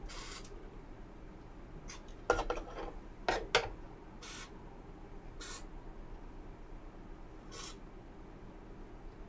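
DeoxIT contact cleaner sprays in several short hissing bursts into switch contacts on an electronics repair bench, close and crisp, with a few clicks and handling taps between bursts in a quiet room.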